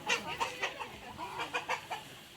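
A rooster clucks close by in a quick, uneven run of short calls, heard alone in a quiet setting.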